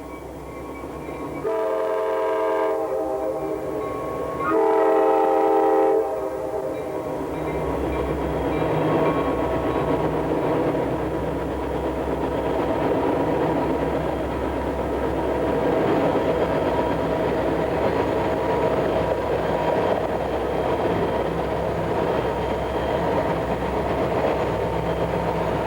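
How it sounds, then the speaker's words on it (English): A northbound CSX coal train powered by three SD50 diesels pulls out and gets underway at Ideal. Two long horn blasts sound early, then a loud, steady engine drone with rumbling rail cars builds and holds throughout. "a northbound triple SD 50 powered coal train gets out of the hole and underway"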